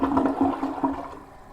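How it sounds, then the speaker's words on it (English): A newly installed toilet flushes, with a brief close gurgling rush of water that fades quickly. "Let's see how it flushes."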